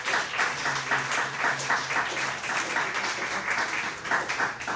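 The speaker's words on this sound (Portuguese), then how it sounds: "Diga amém e aplauda ao Senhor com o seu melhor." A church congregation applauding during a service, a full, continuous wave of clapping from many people that stays loud and steady throughout, with a low hum underneath and no speech.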